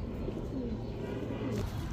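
American Lakkha pigeons with feathered feet cooing at a pigeon seller's, low soft throaty coos rolling continuously over a busy background murmur.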